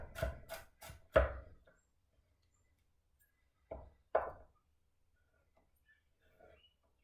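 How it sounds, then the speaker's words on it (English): A knife chops peeled garlic on a board: a quick run of four sharp, close taps, a long pause, then two more crisp chops and a few faint small knocks. "And then I have to chop some garlic."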